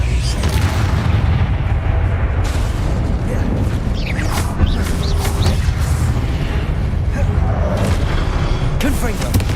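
Confringo explosive spell blasts in Hogwarts Legacy boom repeatedly over a dense, constant battle din, with several distinct bursts and crackling impacts spread across the stretch.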